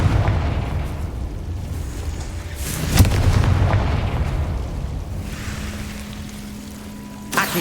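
Confringo blasting spell going off in Hogwarts Legacy on PS5, with two sharp booms, one near the middle and another right at the end, over a low rumbling ambience.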